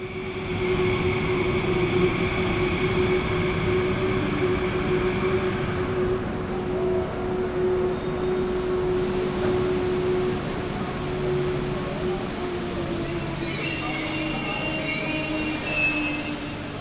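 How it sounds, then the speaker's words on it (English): An Italian Trenitalia Frecciarossa 1000 high-speed train pulls into a station platform with a steady rumbling roll and a long, sustained wheel squeal, the rolling noise lasting throughout and easing slightly toward the end. "Watch one of Trenitalia's Frecciarossa 1000 trains arrive."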